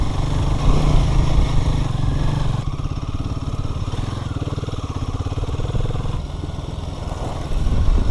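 Motorcycle engine droning steadily while riding on a moto tour, a loud, continuous mid-pitched hum with a slight shift in tone partway through as the throttle changes.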